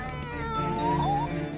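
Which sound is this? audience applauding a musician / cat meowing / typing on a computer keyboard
cat meowing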